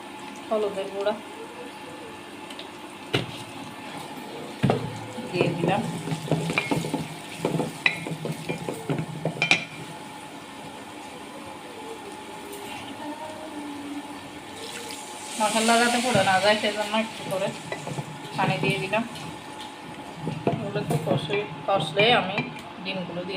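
Green chillies frying in a pan for a jute-leaf and fish curry, a continuous sizzle with scraping spoon strokes and clinks, close by, while someone talks over it at times.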